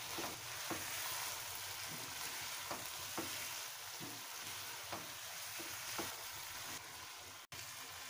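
Chicken karahi masala frying in a pan with finely crushed coriander, a dense continuous sizzle with periodic stirring scrapes, close and even, with no talk.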